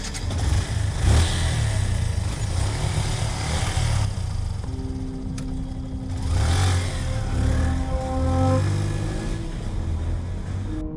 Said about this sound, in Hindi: राहुल भी ऑर्डर लेके अपना बाइक स्टार्ट करके निकल पड़ता है